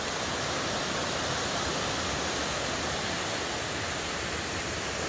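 A river running high after rising well above its usual level rushes in a dense, constant roar, close and loud, with no voices and no change in level.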